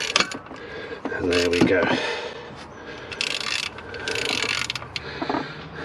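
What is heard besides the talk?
socket turning belt tensioner on BMW N47 engine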